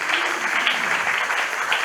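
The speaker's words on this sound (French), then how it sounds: "Acclame pour toi-même alors." A church congregation bursts into dense, continuous applause, loud and close, steady clapping filling the whole short moment.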